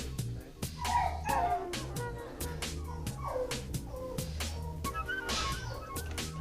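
Dogs bark, yip and whimper repeatedly in an animal shelter's dog holding area, a busy, continuous chorus of overlapping barks with a steady room hum underneath.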